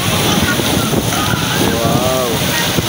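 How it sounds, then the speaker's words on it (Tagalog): Large waves crash and slosh continuously at a beach resort, a loud, dense wash of surf with wind rumble on the microphone, and a voice calls out over the water noise. "Malalaki rin ang alon niya,"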